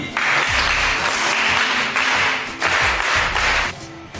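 Bursts of group clapping swell and fade in several waves over four seconds, with a sharper slapping or cracking hit near the start of each wave.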